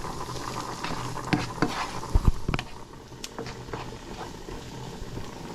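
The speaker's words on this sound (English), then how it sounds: "We're going to let this saute for about a minute" A corned beef fry-up with hot pepper sautés in a pan, with a soft steady sizzle and a few scraping stirs and clinks of a utensil near the middle.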